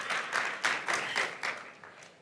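Audience applause comes in rhythmic waves, a crowd clapping together in a regular pulse that swells and fades, fairly close with no speech over it.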